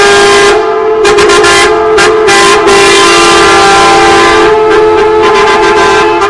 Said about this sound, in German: Nochmal der deutliche Zug.